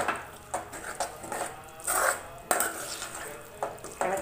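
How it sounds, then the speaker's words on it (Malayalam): A spoon stirring tomato curry in a pan after water has been added, giving repeated scraping and clinking strokes at a steady rhythm, close by, with no talking. "ഇളക്കി കൊടുക്കാം."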